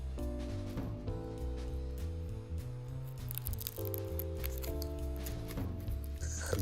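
Blister packaging of a Blu-ray being cut open with a sharp tool, heard as a close series of crinkling, snipping and plastic crackling noises with irregular rhythm, no talk.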